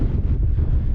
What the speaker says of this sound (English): very windy, but very good.